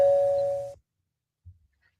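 A video game doorbell gives one bright, sustained electronic chime that rings for about three quarters of a second and then cuts off, followed by a soft faint thump and near silence.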